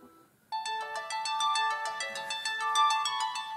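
A ZGPAX S28 smartwatch's find-phone function sets a phone ringing: a melodic electronic ringtone starts abruptly after a short silence and plays on steadily for about three seconds, loud and close.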